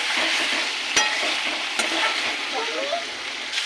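Chicken pieces fry in a pan for a chicken kosha, a steady loud sizzle with a couple of sharp clinks as they are stirred, no talking.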